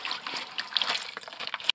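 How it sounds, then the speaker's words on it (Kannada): Green chillies are swished and rubbed in water close up, giving a brief run of light splashes, trickles and drips. "ಸ್ವಲ್ಪ ಕ್ಲೀನ್ ಆಗಿರಲಿ ಅಂತ ತೊಳೆದುಕೊಳ್ಳುವುದು"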